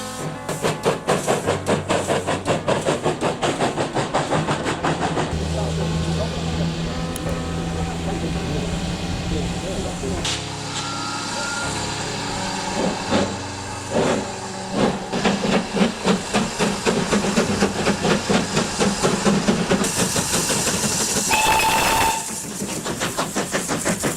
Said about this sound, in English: A 460 locomotive that once appeared on film is pulling a train past an old station